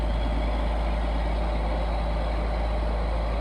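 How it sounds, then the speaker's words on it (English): A CVRT armoured tracked vehicle's engine runs loud and close as the vehicle moves, giving a dense, steady rumbling drone with a throbbing low hum and no break across the few seconds. "it's not a good idea to be run over by a tank"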